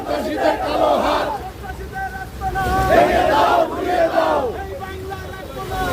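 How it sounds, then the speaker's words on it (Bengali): A street protest march in heavy rain in Dhaka: a crowd of party activists chants slogans in rising, rhythmic waves over a noisy outdoor background. "বিক্ষোভ মিছিল করছে নেতা কর্মীদের সাথে"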